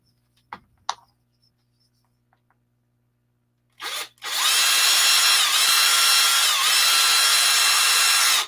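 A power drill bores through a rod, with a few light taps and a brief motor burst first, then a loud, steady high whine of the bit cutting metal.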